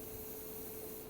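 An airbrush sprays pre-thinned paint onto a Gunpla model, a faint, steady airy hiss with a thin tonal whine, continuous and close, with no talking.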